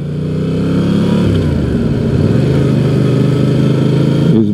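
A motorcycle engine drones loud and steady up close during a category A riding lesson, holding a constant note with slight pitch shifts as the bike moves through an intersection, making a left turn onto Elijas Street.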